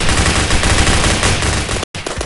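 Rapid automatic gunfire from the Roblox shooter Phantom Forces rattles loud and close in a dense continuous burst, cuts out briefly, then resumes for a few more shots.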